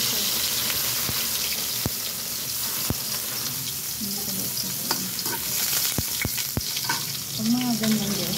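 Garlic sizzling and frying in a hot pan for afritada with salmon, a steady crackle broken by sharp clinks of a utensil against the pan, with a brief tonal scrape near the end.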